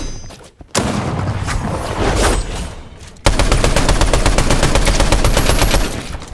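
Gunfire crackles in a video game: loud rapid bursts of shots, one stretch that stops abruptly, then a second longer dense burst that fades near the end, with no voices over it.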